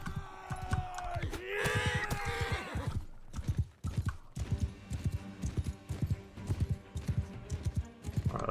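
In a Mount & Blade 2: Bannerlord battle, a horse gives a loud, close whinny, then hooves clip-clop in a fast galloping rhythm, with clashing game sounds around them.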